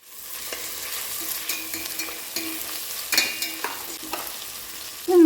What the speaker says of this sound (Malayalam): ഇതൊന്ന് ചൂടാകുമ്പോൾ ഇതിലേക്ക് 4 സവാള നേരത്തെ അരിഞ്ഞ് 3 പച്ചമുളക് അരിഞ്ഞ് ചേർത്ത് കൊടുക്കാം.